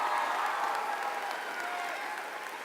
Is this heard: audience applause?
yes